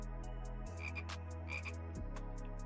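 A game frog croaks in short repeated calls over a steady low electronic hum, fairly close and distinct, in the Exit 6 video game.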